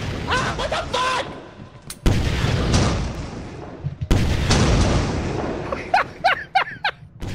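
Rocket explosions in modded Lethal Company, two heavy booming blasts with rumbling tails, loud and close, with game sounds and voices around them.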